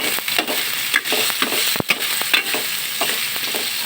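Tomatoes being sautéed in a pan for a squid dish, with a steady sizzle broken by repeated scraping and stirring strokes of a spatula, close and fairly loud with no talking.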